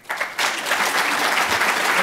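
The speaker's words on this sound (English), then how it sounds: "Please give a round of applause and welcome them." A burst of applause from a lecture audience rises quickly and holds steady, loud and sustained clapping throughout.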